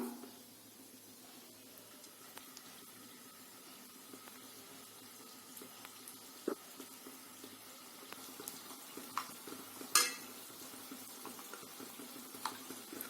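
Wheat-flour biscuits deep-frying in hot oil in a kadai, a faint, steady bubbling sizzle with a few soft pops and clinks, close and alone.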